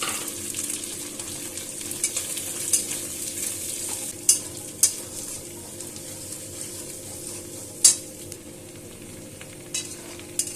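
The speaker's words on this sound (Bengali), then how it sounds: "এবারে আমি দিয়ে দিচ্ছি এই পেঁয়াজ, কেটে রাখা পেঁয়াজগুলো।" Chopped onions hitting hot oil with dry red chilli and Bengali five-spice, a continuous close sizzle with a few sharp pops and utensil knocks, no voices.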